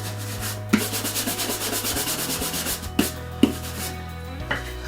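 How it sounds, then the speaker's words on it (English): Shoes being brushed with quick strokes across the soles, heels and uppers: a steady run of rhythmic scrubbing swishes, with a few sharper knocks along the way and no talk. "but for now, an initial brush. Soles, heels and uppers."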